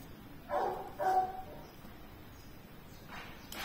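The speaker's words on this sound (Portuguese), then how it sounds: "Cachorro do vizinho tá latindo." A neighbor's dog barks twice at a distance, faint and muffled, with a softer yelp a couple of seconds later over quiet room noise.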